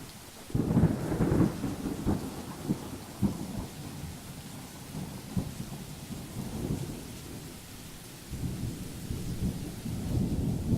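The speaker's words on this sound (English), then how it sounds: "A suitably rainy day was chosen" Heavy rain pours with repeated low thunder rumbles rolling in waves, loud and close, continuous across the whole stretch with no voices.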